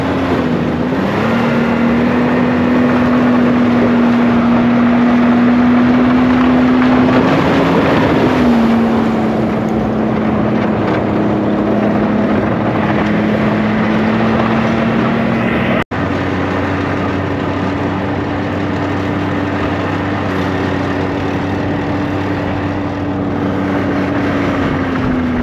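Argo amphibious vehicle motoring through meltwater and climbing onto lake ice, a loud continuous engine drone with a steady tonal whine that dips and rises, wind buffeting the microphone and a sharp break midway.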